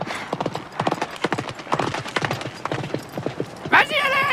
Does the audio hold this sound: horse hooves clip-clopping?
yes